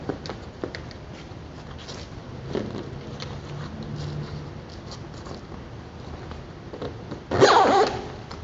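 A brief, sharp zipper pull near the end, closing a Bestop Supertop NX soft top on a Jeep Wrangler JKU, close and fairly loud, following quiet rustling and faint handling noises.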